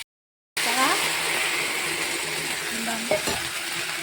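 Spices, brinjal and potato being stir-fried with drumstick leaves (sajna shak) in a pan, a steady close sizzle with occasional stirring scrapes, starting after a brief silence.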